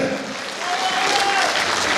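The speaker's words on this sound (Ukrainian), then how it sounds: "Ваші оплески!" A brief, dense burst of audience applause at a Ukrainian show performance, a full room clapping steadily and loudly, with a voice faintly audible over it.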